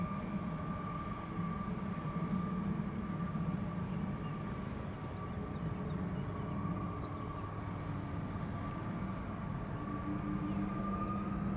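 Distant, steady jet engine rumble and whine from a Delta Air Lines Airbus A330 at Schiphol Airport holds constant throughout, faint and continuous with no talking.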